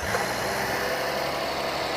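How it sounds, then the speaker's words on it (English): Dense mechanical whirring and engine rumble, steady and close, as a Rolls-Royce Dawn convertible's engine cranks on its starter motor and settles into a running hum. "I love the sound of the starter motor."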